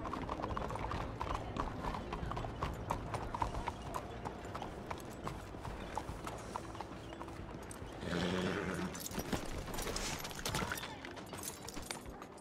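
Horse hooves clip-clop steadily in Red Dead Redemption 2, a close, even rhythm on a trail with a brief whinny-like burst and background game ambience throughout.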